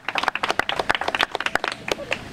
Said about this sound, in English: give my friend Jim Benson of the Brockton Historic Society a round of applause